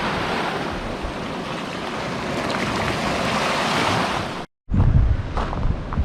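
Waves wash steadily onto a rocky, pebble-strewn Lake Superior shore at High Rock Bay near Copper Harbor, Michigan. Heavy wind rumble buffets the microphone, and there is a brief dropout near the end.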